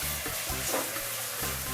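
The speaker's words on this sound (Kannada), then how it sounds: "ಈ ಶುಂಠಿ ಬೆಳ್ಳುಳ್ಳಿ ಪೇಸ್ಟ್ ಸಹ ಚೆನ್ನಾಗಿ ಈರುಳ್ಳಿ ಜೊತೆ ಬೆರೆತು ಅದು ಸಹ ಫ್ರೈ ಆಗಬೇಕು." Onion with ginger garlic paste frying in hot oil for samosa filling makes a steady, fairly loud sizzle with soft stirring scrapes, close and continuous without talk.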